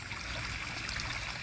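Water trickling down a garden pond waterfall, a steady broadband splash and babble filling the brief moment, close and even, with no voices.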